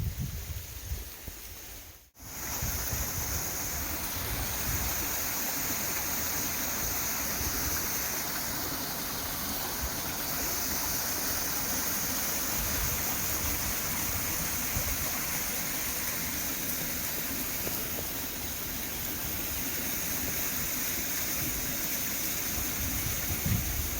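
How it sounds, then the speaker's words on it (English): Pacific Ocean waves wash continuously in a steady, broad roar with little break, loud and close, with no talk over it after a brief disturbance at the start. "This is the Pacific Ocean."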